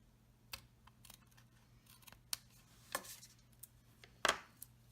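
Scissors snip extra cardstock off a gate fold card in a handful of separate sharp cuts, quiet and close, with faint paper handling between them.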